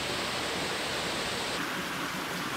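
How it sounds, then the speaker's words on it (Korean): A roaring waterfall in a deep mountain valley of the Baekdudaegan range in late spring, a dense, continuous broadband rush that holds steady and loud throughout with no voices. "폭포소리 우렁찹니다."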